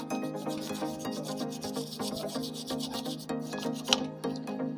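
A small toothbrush scrubs oily engine parts from a CD-70 70cc motorcycle during washing, making rapid rhythmic bristle rubbing strokes, close and steady, over a low background hum.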